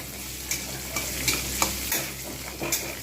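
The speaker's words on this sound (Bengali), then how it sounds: "পটল কিন্তু খুব সুন্দরভাবে ভাজা হয়ে গেছে" Pointed gourd (potol) fries in hot oil with a steady close sizzle, broken by several sharp scraping stirs of a spatula.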